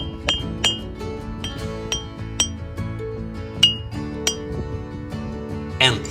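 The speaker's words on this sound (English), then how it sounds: "These stones are special because they can produce musical sounds." Iron-rich stones struck together near an ice patch in Norway, producing bright, ringing musical clinks, about a dozen sharp tones in an irregular rhythm, close and clear.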